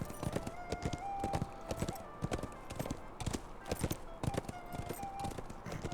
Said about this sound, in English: You can hear my horse.